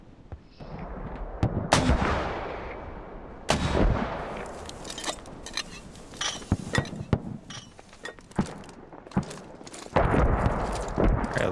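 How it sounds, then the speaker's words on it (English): Mortar fire in a military video game, several loud booming launches and distant impacts spread across the stretch, with mechanical clanks and ratcheting in between, no voices. "Who's launching those mortars way out in the field over there?"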